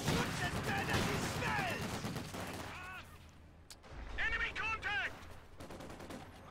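MG42 machine gun fire in a World War II strategy game, heard as distant rattling bursts under busy battle noise, with a commentator talking over it throughout.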